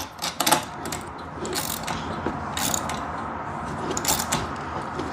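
Socket ratchet snugging a charge tube coupling clamp on a Saturn Sky: rapid metallic ratcheting clicks in short bursts with brief pauses, close and fairly loud, with no talk.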